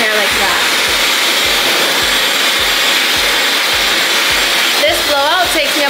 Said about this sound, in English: I like to also put it under the brush and then just dry my hair like that.